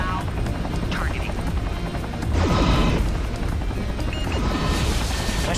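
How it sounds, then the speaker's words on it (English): Helicopters in the MechWarrior 3 video game, a steady rotor thrum beneath heavy combat noise, with explosive impacts and crashes rising midway while a person talks over it. "I hear helicopters."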